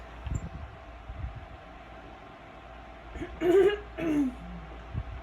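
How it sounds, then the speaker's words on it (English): A person clears their throat twice in quick succession, close and fairly loud against a quiet room with faint rustling. "I keep having to clear my throat."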